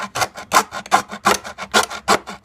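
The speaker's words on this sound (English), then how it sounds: "I'm going to try just using one of these little single blade hacksaws to cut her open." A small single-blade hacksaw cuts into a plastic motorcycle airbox on a CRF250L, giving close, rhythmic rasping strokes, about a dozen back-and-forth scrapes in quick, even succession with no talking.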